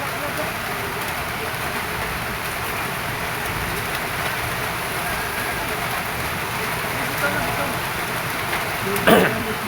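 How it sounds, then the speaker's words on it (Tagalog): Heavy rain pours steadily at a hillside resort pool in Puhagan, Valencia, Negros Oriental, a dense even hiss with no break, loud and close. "medyo ulan karon kusog ang ulan."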